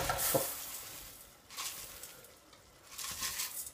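Risotto rice tipped into a pan of onions and wine, giving soft hissing sizzles and stirring scrapes in three short bursts at a quiet, close level.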